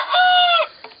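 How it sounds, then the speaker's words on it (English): A rooster crows once inside a barn, loud and close, with a single sustained, drawn-out call that ends in a short trailing cluck. "Hopefully the roosters aren't drowning me out too badly here."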